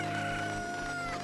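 Chicken in the Zelda Ocarina of Time randomizer game, a steady synthetic fowl call holding a sustained tonal cackle for just over a second, fairly loud over faint game background.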